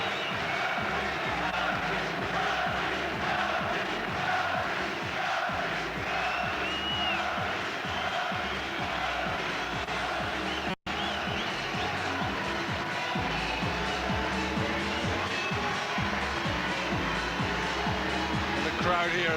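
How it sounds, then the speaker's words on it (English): A boxing arena crowd at a Naseem Hamed fight roars continuously, a dense, loud wall of cheering and shouting that holds for the whole stretch with a brief dropout midway, likely with commentary beneath. "crowd here are certainly enjoying every moment of this."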